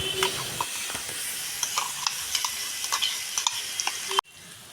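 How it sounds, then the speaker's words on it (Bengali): Mango and coconut mixture sizzling in hot ghee with repeated clicks and scrapes of a spoon stirring, close and steady until it cuts off abruptly near the end. "ঘি গরম হয়ে গেলে দেব আম আর নারকেলের মিশ্রণটা।"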